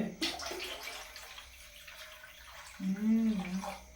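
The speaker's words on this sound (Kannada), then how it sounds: "ಇದರಲ್ಲಿ ಮೂರು ಚೊಂಬು ನೀರು ಹಾಕ್ತಾ ಇದ್ದೀವಿ" Water poured from a jug into a pot while making sugar syrup for gulab jamun; a short, close pouring burst arrives near the end after quieter kitchen noise.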